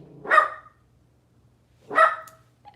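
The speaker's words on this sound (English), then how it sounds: "every time she opens and closes her door, he barks" Small dog barking, two sharp separate barks about a second and a half apart, close and fairly loud in a quiet indoor space.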